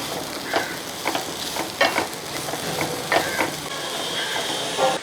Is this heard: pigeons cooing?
no